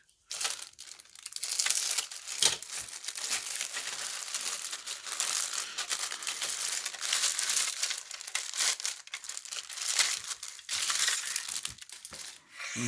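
Continuous crinkling and crumpling of a plastic bag being opened and handled to get at Kitty Hawk 1/48 SU-34 Fullback model kit parts, close and fairly loud, with irregular bursts of rustling throughout.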